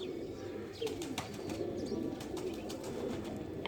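A pigeon coos nearby, soft repeated throaty calls over a low background hum, with a few brief sharper chirps and clicks mixed in.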